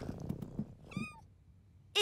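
A kitten gives a few short, close meows, the last one abrupt and loud at the very end, with no talking.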